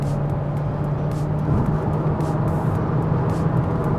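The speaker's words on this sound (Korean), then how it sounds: "다시 뭐 가속한다고 해도 3단으로 딱 내려주면서 저단에서 가속하고" Engine of a Torres T7 SUV pulling under acceleration after a downshift to third gear, heard from inside the cabin as a steady, loud drone with a sustained low hum and road noise throughout.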